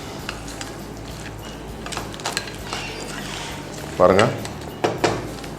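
Crab pepper masala being stirred in a cooking pot: soft scraping and stirring with a few clattering knocks of the utensil against the pot, under a voice speaking.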